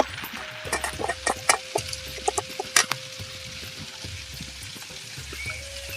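Chilli powder, curry masala and coriander powder fry in oil, giving soft irregular crackles and sizzles along with scattered scrapes and taps of stirring, heard close up.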